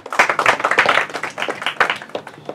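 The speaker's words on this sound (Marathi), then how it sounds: "जोरदार टाळ्या परत एकदा त्यांना" An audience at a Marathi quiz event claps for a team that answered correctly, a dense burst of applause lasting a couple of seconds, close and fairly loud.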